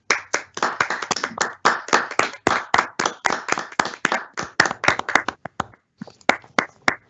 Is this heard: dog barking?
no